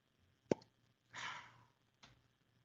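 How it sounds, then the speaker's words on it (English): A cork pops sharply out of a wine bottle, a single close, crisp plop followed by a brief airy pour-like rush and a faint later click, in an otherwise quiet room. "Love those cork pops."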